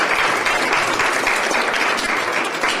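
An audience at an Opportunity Zones training session applauds steadily, a dense, even wash of clapping that holds at the same level throughout with no voices over it.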